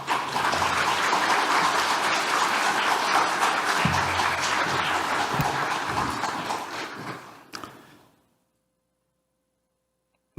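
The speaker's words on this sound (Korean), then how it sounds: "우리 정민영 선교사님 나오실 때 큰 박수로 환영해 주시면 감사하겠습니다." A church audience claps loudly and steadily for about eight seconds to welcome a missionary speaker at a mission gathering. The applause thins out and stops, followed by silence.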